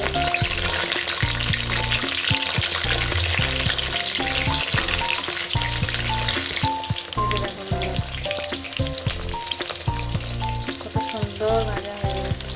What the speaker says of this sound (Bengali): সুন্দর ভাজা হয়ে যাচ্ছে